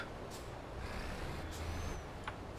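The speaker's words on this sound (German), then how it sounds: "Der hintere LKW, der klingt so, wie als wenn er 80 auf der Autobahn fährt." A truck in the Euro Truck Simulator 2 video game drives along a motorway, giving a low steady engine rumble with faint hissing bursts and a brief high beep, quiet and without talk.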